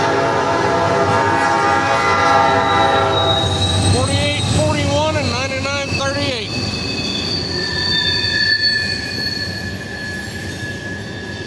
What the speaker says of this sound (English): Unit tank train.